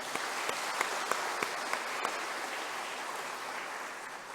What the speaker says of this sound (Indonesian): Kita beri apresiasi, aplaus ya.